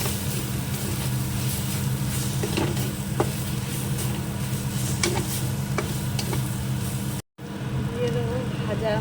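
Chili paste and ginger paste stirred in a frying pan, a steady low sizzle with repeated scraping strokes and occasional clicks of the utensil, continuous for several seconds before a brief cut.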